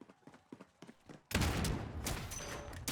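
Gunfire in the video game Call of Duty Warzone starts abruptly after a short stretch of quiet, soft thuds and runs as a loud, dense burst of shots to the end.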